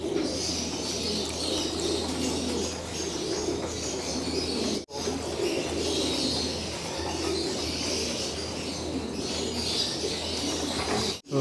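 Pigeons in a loft and aviary just after feeding, with steady overlapping cooing and chirping from several birds, a continuous close chorus with no speech.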